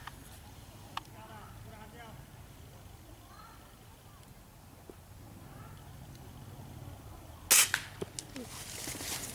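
A Diana 34 Classic air rifle fires a single sharp crack at a dove during an outdoor hunt, followed by a few small clicks. Faint voices and open-air ambience sit underneath.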